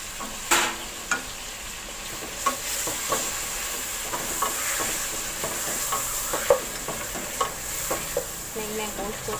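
Beef and garlic paste frying in oil in a pot for nihari, a steady loud sizzle with repeated scraping and stirring clatters throughout, no talk over it.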